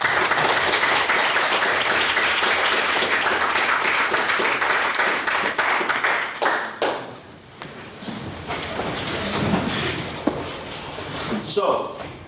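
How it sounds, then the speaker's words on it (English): Audience applause for the judges at a competitive debating event, a dense, sustained burst of clapping that thins and fades out in the second half, followed by scattered claps and room noise. "Give them a round of applause."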